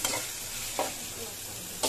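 Fish with spices stirred in a hot frying pan, giving a brief burst of close, steady sizzling with a couple of sharp scraping strokes, no talking.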